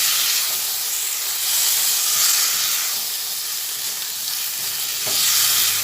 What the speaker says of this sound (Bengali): ভালোভাবে আলু আর সব মশলাগুলো একসঙ্গে ভেজে নিচ্ছি